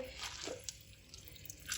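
Water drips and trickles from boiled bitter gourd squeezed by hand over a kitchen sink, a few soft close splashes in a quiet room with no talk.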